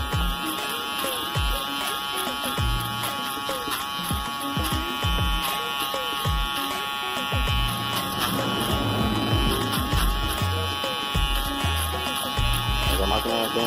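Office Shaver Mega mini electric shaver running and held in the hand while cutting, a loud steady buzz that goes on the whole time, with the pitch wavering and crackling as it moves.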